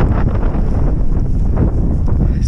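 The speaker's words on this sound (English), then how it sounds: "Even walking in the wind is difficult" Strong wind roars on exposed cliff tops, a constant loud buffeting rumble across the microphone that never lets up.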